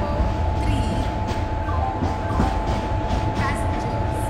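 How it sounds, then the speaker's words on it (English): The Gatiman Express pulls away from a station platform, a loud, close rumble of rolling rail cars with faint clicking wheel noise and a steady hum, while background voices murmur. "Gatiman Express is departing from platform number 3."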